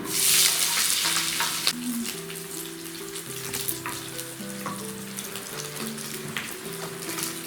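Onion fries in rendered fat among crisp pork cracklings, a dense close sizzle with bubbling pops and scraping stirs throughout, steady and unbroken by speech.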